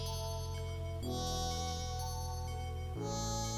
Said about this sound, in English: Oh yeah, that's some Genesis synth right there.